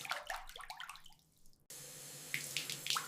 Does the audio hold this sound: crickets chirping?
no